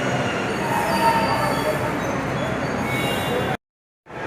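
A metro train at Bahadurgarh metro station rumbles steadily with loud, sustained wheel squeal along the rails, continuous for several seconds before cutting off abruptly into silence near the end.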